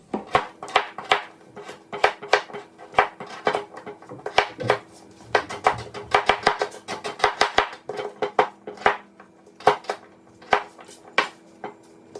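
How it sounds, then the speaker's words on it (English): A kitchen knife dices acorn squash into big cubes on a cutting board, giving sharp repeated chops in irregular bursts with brief pauses between, close and clear without talk. "I'm going to dice it up into these big cubes, just like our potatoes."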